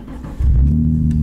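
A car engine starting up as someone learns to drive, a low rumble that jumps in level partway through and then idles steadily at close range.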